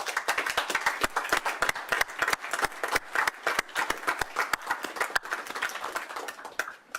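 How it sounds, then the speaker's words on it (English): A round of applause from a seated audience at a technical college signing day ceremony, dense rapid clapping held steady for several seconds before thinning at the end. "Let's give them a round of applause."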